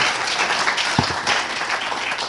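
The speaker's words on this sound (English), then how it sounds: "a round of applause for these ladies" Audience applause in a high school auditorium at a speech contest, a full, continuous wash of clapping from a crowd with no voices over it.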